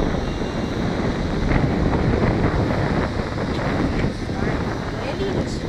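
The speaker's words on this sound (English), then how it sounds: "windy to fly right now" Strong wind gusts across an open flying field, buffeting the microphone with a loud, rumbling roar that swells and eases in uneven surges.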